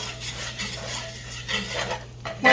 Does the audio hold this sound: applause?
no